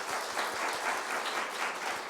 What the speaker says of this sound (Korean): 한번 박수로 한번 환영하겠습니다